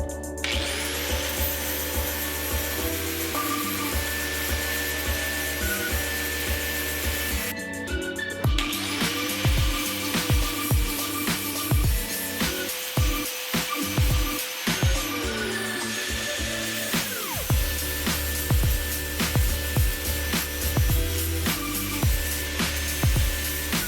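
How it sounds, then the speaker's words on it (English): A flap disc on a power grinder grinds down a stainless steel nut ring, giving a loud, continuous whine that shifts in pitch as the tool works the metal, with a brief change in tone midway. "this is a flap disc, and this should make short work of grinding down the excess material"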